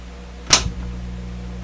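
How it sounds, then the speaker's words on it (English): A large Sparton 1567 tube radio produces a steady low hum, broken by a single sharp click or pop before the hum settles in slightly deeper and continues alone. "So immediately there was a deeper hum."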